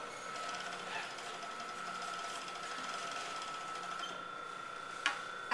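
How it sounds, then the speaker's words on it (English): An overlocker sewing machine runs continuously along a fabric edge, a steady, fast mechanical whir with a fixed hum, close and moderately quiet, ending with a couple of sharp clicks. "And I'm going to overlock the whole outside."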